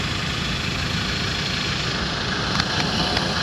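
A vehicle's engine idles while stopped in Mumbai traffic, a steady low rumble that continues evenly throughout with faint surrounding road noise.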